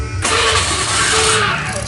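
A Honda Beat carburetor scooter's starter cranks, with a slight popping sound from the starter motor, and the engine catches, running loud and close with a steady mechanical whir for a couple of seconds.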